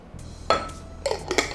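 Thai mackerel chili paste is tossed in a bowl, giving a few short clinks and scrapes of utensil against the dish, close and fairly loud over a quiet kitchen background.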